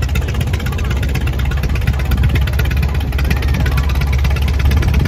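An antique Twin City tractor engine idles at a parade of power at an antique tractor and steam engine show, a close, steady low chugging throb with a rhythmic knock and no talk over it.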